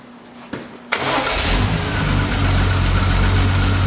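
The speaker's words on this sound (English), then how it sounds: "So let's start the car." A 1973 Triumph TR6 engine cranks briefly, catches with a sharp burst and settles into a steady, loud idle close by, with no talking.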